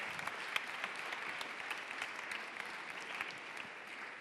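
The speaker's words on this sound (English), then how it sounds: "one more time, a nice round of applause for everyone who helped this event" A summit audience gives a sustained round of applause, a dense, steady wash of many hands clapping that carries on evenly from start to finish with no voices on top, heard from a moderate distance.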